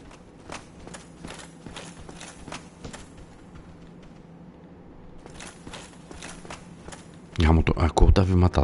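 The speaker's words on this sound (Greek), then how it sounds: "Ακούω τα βήματα τους" Footsteps in Dark Souls sound as a regular series of soft, clicking steps, faint and fairly near, stopping for a moment and then resuming, until a person starts talking over them at the end.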